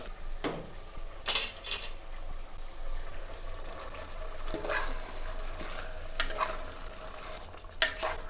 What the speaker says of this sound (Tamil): சிக்கன் சேர்த்து இந்த மாதிரி நல்லா மிக்ஸ் பண்ணிவிட்டு நம்ம மசாலாவை சேர்த்துக்கலாம்